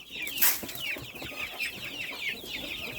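Three-week-old chicks cluck and peep continuously while being fed wheat, a dense flock of high, close chirps with no talking.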